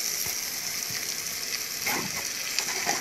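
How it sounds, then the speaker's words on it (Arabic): Onions and sausage sauté in a hot pan for a sausage-in-tomato-sauce dish, giving a steady, close frying sizzle with a few faint stirring scrapes and no talking. "البصلتين اهو متشوحوا معانا، هننزل معانا السلوق"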